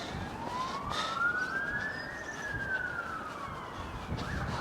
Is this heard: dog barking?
no